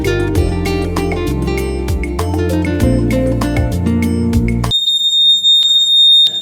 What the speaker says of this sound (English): the gas alarm started screaming